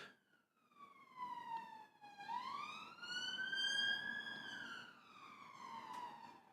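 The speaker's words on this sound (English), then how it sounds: "Every single stream there is a siren that goes past" An emergency vehicle siren passes outside, wailing up and down in long sweeping tones, faint and distant through the walls of a room where a live football watchalong is streaming, with no one talking over it.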